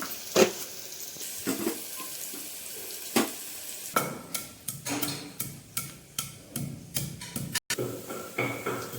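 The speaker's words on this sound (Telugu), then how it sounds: "కొంచెం అంత సాల్ట్ వేస్తే ఉల్లిపాయలు త్వరగా వేగిపోతాయి." Sliced onions fry with a pinch of salt in a pan for a pressure-cooker mutton curry, a soft sizzle broken by scraping stirs and irregular ladle taps on the pan.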